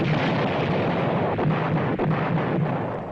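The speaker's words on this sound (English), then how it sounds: "Day and night, the bombs continue, yet Jiang persists." Bombs burst during the 1939 Japanese air raids on China, heard as a loud, continuous rumbling roar of blasts, thick and unbroken, with no narration over it.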